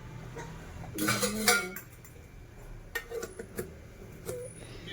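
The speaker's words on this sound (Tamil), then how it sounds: "நம்ம தட்டை வந்து கமுத்தி போட்டு" A metal plate is flipped upside down and set down in a home kitchen. It makes a close, clattering metallic knock followed by a few lighter clinks and taps.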